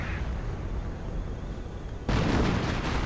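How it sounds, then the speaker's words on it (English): Heavy artillery barrage pounding Grenadier infantry in a World War II strategy game, a dense rumbling roar that suddenly swells louder partway through and keeps booming without pause. "And Grenadiers getting hammered by artillery."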